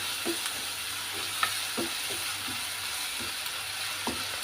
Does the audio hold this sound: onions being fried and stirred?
yes